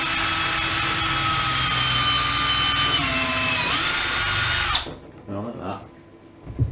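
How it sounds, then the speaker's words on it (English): A power drill whines loudly and steadily, its pitch dropping slightly as it bores through wooden floorboard, then cuts off, leaving faint background noise. "We'll then drill through"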